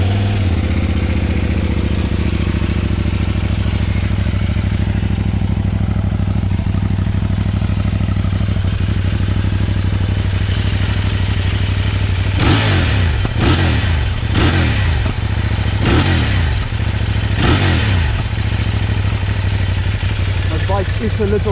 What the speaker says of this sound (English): let's have a little start up, and then you guys can hear how the bike sounds